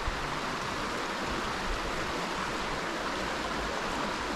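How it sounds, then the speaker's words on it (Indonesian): River water flowing steadily beside a remote forest village, a dense, even rush that stays constant and fairly close throughout, with no voices. "Suara airnya juga untuk merelaksasi"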